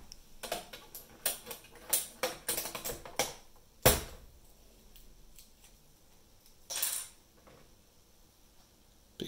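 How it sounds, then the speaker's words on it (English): Sharp plastic clicks and snaps as keycaps are pried off a Blue Alps mechanical keyboard, a quick irregular burst of clacks followed by a few sparser pops and one louder crack. "First things first, removing the keycaps"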